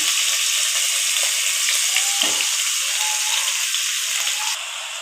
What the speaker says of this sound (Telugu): ఈ మటన్ తీసి గిన్నెలో వేస్తున్నాను